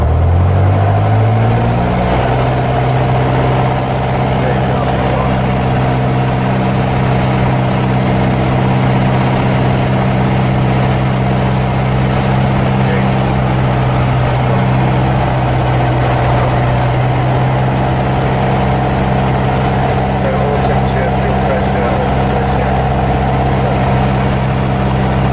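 A light aircraft's small piston engine runs up to 2000 rpm, its deep droning hum rising at the start and then holding a constant loud pitch throughout, with no voices.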